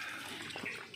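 Water runs through a poultry nipple drinker line, a steady close hiss and gurgle of flowing water.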